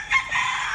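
A short, close rooster crow from a white rooster, bright and strained, lasting under a second with no talk over it.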